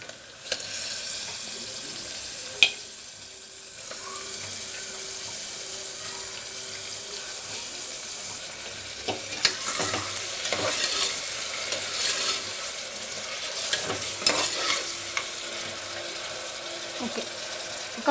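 Mutton pieces added to a hot pan for mutton soup curry, giving a steady sizzle with scraping stirring sounds, fairly close and continuous, with a few sharper clinks of the spoon against the pan.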